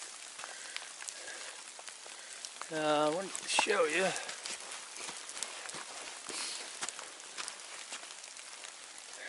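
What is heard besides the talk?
rain falling on the Appalachian Trail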